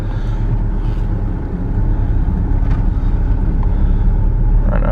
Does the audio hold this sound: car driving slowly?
yes